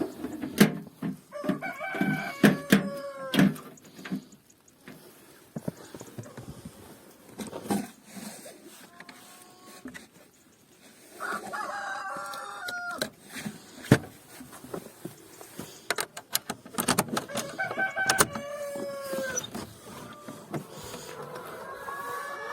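Several roosters crow repeatedly with hens clucking in between in a snowy farm coop, a lively barnyard chorus with overlapping calls near and farther off.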